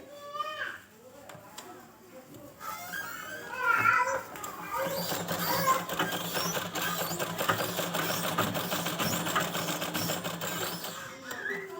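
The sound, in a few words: sewing machine stitching the neckline of a baby gown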